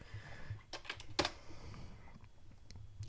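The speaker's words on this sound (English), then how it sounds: "You'll notice I'm using a lot of tabs." Quiet keyboard typing, a handful of sharp key clicks clustered together followed by lighter scattered taps, close up over faint background noise.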